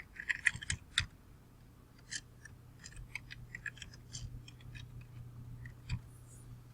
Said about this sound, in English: In here I'm going to type my name.